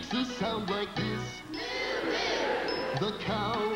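A concert audience joins in a long, drawn-out moo, imitating a cow. The sung song breaks off for the loud, sustained crowd sound, then resumes.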